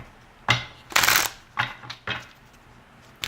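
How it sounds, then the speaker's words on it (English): Tarot cards being shuffled by hand: a handful of crisp, papery riffling bursts, one longer flurry among shorter ones, close and fairly loud over a quiet room. "One more shuffle."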